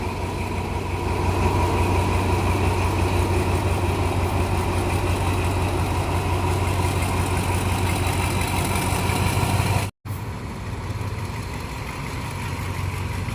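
A diesel locomotive idles outside a locomotive repair shed, a steady low rumble and hum, broken by a brief sharp dropout near the end before the drone resumes.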